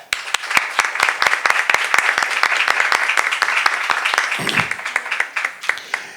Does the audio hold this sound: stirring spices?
no